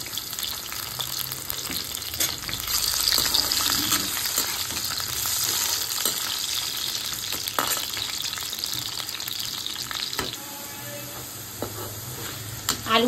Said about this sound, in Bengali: এবার এর মধ্যে আমি আলুগুলি দিয়ে দিচ্ছি। আলুগুলি দিয়ে ভালো করে